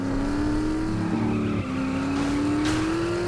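A car engine in The Saboteur video game drones loudly and steadily as it runs, with a sustained tonal hum that climbs slightly and some tire noise layered over it.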